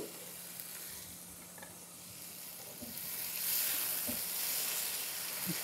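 A creamy no-cream pasta sauce is stirred in a pan, producing a quiet, soft sizzle with occasional scraping stir strokes. It swells a little partway through and carries no talking.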